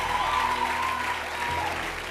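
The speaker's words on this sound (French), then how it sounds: "Acclame Jésus le Christ." A church congregation applauds together, a dense, even wash of clapping that fills the room for a couple of seconds at moderate loudness.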